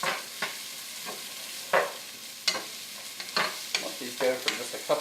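Onions sizzle in a pot for chicken vegetable soup, with several distinct scraping stirs of a spoon breaking through a steady frying hiss, close and moderately loud, no voices.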